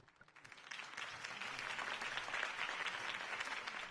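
Crowd applause from a political campaign rally in the Telltale Batman video game, a dense wash of clapping that swells after a soft start and holds steady and loud throughout.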